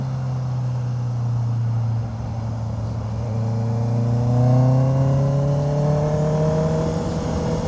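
A motorcycle ridden on the road accelerates up to about 100 km per hour, with a steady engine drone rising in pitch through the gears, close and loud over wind rush.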